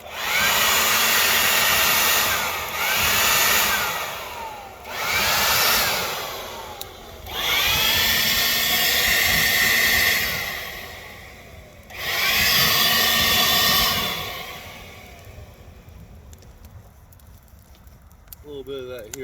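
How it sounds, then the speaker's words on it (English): A leaf blower roars in loud repeated bursts, blasting air onto a campfire's coals at a campground, with the crackle and rush of fire between gusts. "Use our leaf blower."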